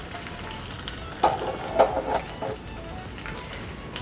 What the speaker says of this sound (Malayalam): ഒരു മൂന്ന് തണ്ട് കരിവേപ്പിലയും കൂടെ ഇട്ട് കൊടുക്കുക